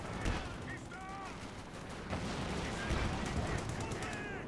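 Distant, rumbling artillery and gunfire from a Company of Heroes 2 battle on the Port of Hamburg map, a continuous barrage of dull thuds and cracks under a commentator's speech.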